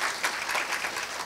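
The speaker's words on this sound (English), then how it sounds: "Please give him another round of big applause." Conference audience applauding a plenary speaker at a university conference, a dense steady wash of many hands clapping in a hall, continuous and moderately loud throughout.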